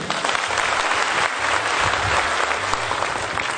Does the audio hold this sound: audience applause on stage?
yes